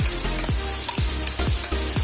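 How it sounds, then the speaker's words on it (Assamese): Close, constant frying sizzle of pork with ginger, garlic and chilli paste, with a few quick scraping strokes of a spoon at a steady, uneven rhythm. "এতিয়া গোটেইখিনি আদা ৰচুনৰ গোন্ধ নোযোৱালৈকে ভাজিম"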